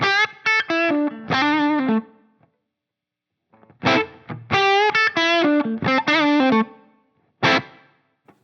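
Electric guitar played through a Line 6 Helix with reverb: bright strummed chords and picked notes in two bursts separated by a silent gap, each phrase trailing off with a short decaying tail.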